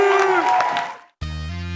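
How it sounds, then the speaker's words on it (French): A TV studio audience cheering and clapping, loud and close at first, fading out after about a second before a sharp cut to a bright musical jingle. "Applaudissez pour Lago, s'il vous plaît."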